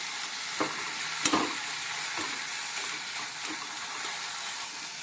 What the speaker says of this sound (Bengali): এটা ভালো করে নেড়ে নিচ্ছি